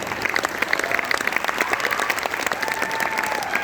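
An audience at a Holi kavi sammelan poetry gathering applauds steadily, a thick, continuous wash of many hands clapping at moderate distance with a faint crowd murmur beneath.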